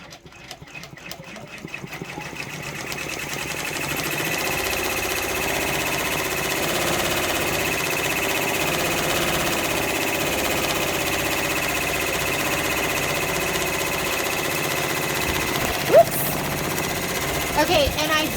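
Embroidery machine stitching a freestanding lace tack-down, a steady fast mechanical whir and tapping that starts after a quiet moment and runs evenly on, with a person talking briefly.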